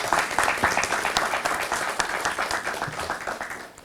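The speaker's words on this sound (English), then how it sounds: "A big round of applause for all of them." Audience at an operations and supply chain conclave applauding the panelists, a steady wash of many hands clapping, moderately loud and continuous throughout.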